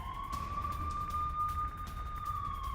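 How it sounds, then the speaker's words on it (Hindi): A steady, sustained Israeli air raid siren wails from a distance, holding one high pitch with a slight rise and fall over a low rumbling background. "बड़े शहरों में इजराइल के सायरन बज रहे हैं।"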